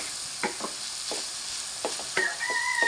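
Cluster beans curry sizzles in the pan while chili powder is stirred in, a steady frying hiss with scattered scraping strokes of the spoon, heard close with no voices.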